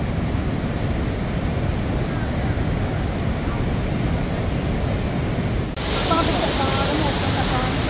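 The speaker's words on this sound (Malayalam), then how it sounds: "അത്രയ്ക്ക് ഇതിലാണ് വെള്ളം ഒഴുകിക്കൊണ്ടിരിക്കുന്നത്." Athirappilly waterfall in Thrissur sends rushing water crashing down in a loud, continuous roar that swells sharply louder partway through.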